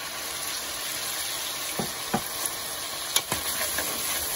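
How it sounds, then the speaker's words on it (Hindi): Spices and garlic-ginger paste frying in a pan for aloo gosht, a steady close sizzle with a few soft clinks of a stirring spoon against the pan. "इसको हम अच्छी तरह से भूनेंगे"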